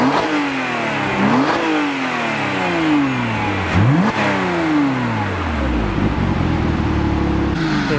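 A Porsche Cayman S with a 3.4-litre engine revs repeatedly close by, its pitch climbing and dropping in several sweeping pulls before settling into a loud, rough idle.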